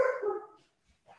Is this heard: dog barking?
yes